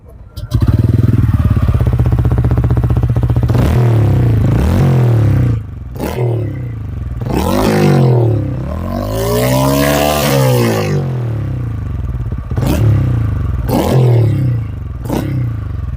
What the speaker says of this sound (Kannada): ಇದರ ಎಕ್ಸಾಸ್ಟ್ ನೋಟ್ನ ಕೇಳೋಣ